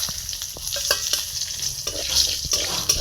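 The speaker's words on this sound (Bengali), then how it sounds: "এই তেলে আমি শুকনো লঙ্কা, তেজপাতা, গোটা গরম মশলা ফোড়ন দেব" Dried red chilies, bay leaf and whole garam masala crackle and sizzle in hot oil for a Bengali chicken kosha, a steady close hiss broken by sharp pops and clinks of stirring.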